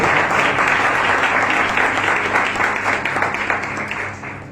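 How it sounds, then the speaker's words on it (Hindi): A church congregation applauding loudly and steadily at a Good Friday service, dense clapping that fades slightly toward the end. "जोरदार प्रभु यीशु मसीह के लिए तालियों के साथ धन्यवाद।"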